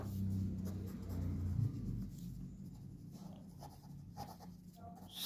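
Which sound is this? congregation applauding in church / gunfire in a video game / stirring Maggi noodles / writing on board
writing on board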